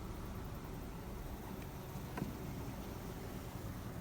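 Honey bees humming around an open beehive during frame work with a hive tool, a steady, soft, diffuse buzz of many insects close by, continuous and unbroken with no talk.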